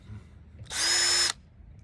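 A power drill whirs loudly in one steady burst of about half a second, starting and stopping abruptly against a quiet background.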